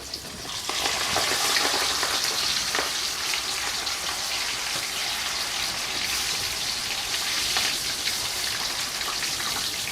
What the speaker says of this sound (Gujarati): આવી રીતના ધીમા ધીમા તાંપે તળાવવા દેવાના એને